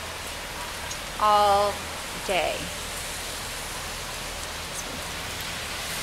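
Steady rain falls outdoors on a gross, wet December day, a constant broadband hiss running through the whole stretch, with a brief voice speaking over it early on.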